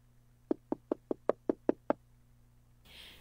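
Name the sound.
knocking on a door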